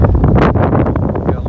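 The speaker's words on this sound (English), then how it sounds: "Now it's windy, but at least it's warm." Loud wind blasts across the microphone, a close, continuous rumbling roar with surging gusts throughout.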